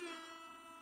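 An air horn blasts once, loud and steady, for just under a second. The buzzing tone sounds slightly thin, like a horn sound effect.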